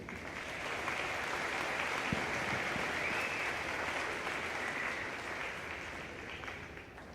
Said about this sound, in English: please give Dr. Sandra Boham, SKC President, a round of applause as she welcomes you